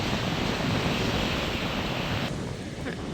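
Rough ocean surf rolls onto a beach in a broad, steady wash of noise, with wind buffeting the microphone and no clear individual wave breaks, fairly distant and unbroken throughout.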